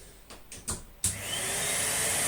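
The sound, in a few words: Numatic Hetty HET200 vacuum cleaner running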